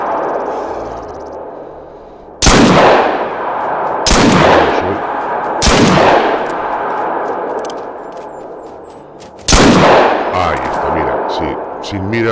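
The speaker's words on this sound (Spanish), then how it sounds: "Vamos a intentar si podemos hacer un disparo." Revolver gunshots in the hunting game theHunter: Call of the Wild: four loud, sharp reports with ringing echo tails, spaced a couple of seconds apart, over a steady outdoor ambience.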